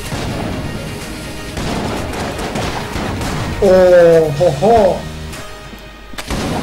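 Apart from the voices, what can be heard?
cannon firing in the video game Enter the Gungeon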